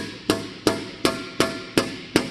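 A heavy ball peen hammer strikes an aluminum breastplate six times in a steady rhythm, freehand denting, each sharp metallic tap ringing briefly, close and clear.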